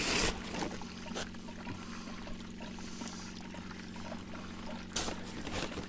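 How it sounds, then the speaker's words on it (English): Gold pay dirt washing through a small rooftop clean-up sluice, a faint steady trickle and pour of water with a low background hum and occasional soft knocks. "I'm going to run that through this little sort of sluice, clean-up sluice I've got"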